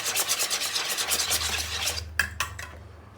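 Broccoli with oil and pepper is stirred in a pot, giving a steady scraping, rubbing sound for about two seconds, then a few separate sharp utensil knocks against the pot, close by with no talk.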